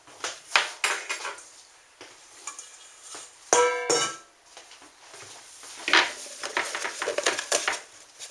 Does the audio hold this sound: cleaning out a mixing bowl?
yes